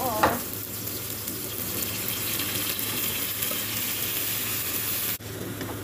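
Mung beans tipped into a hot pan of sautéed tomatoes, onion and garlic for ginisang monggo, giving a steady close, loud sizzle and frying hiss with a brief clatter near the start and an abrupt drop near the end.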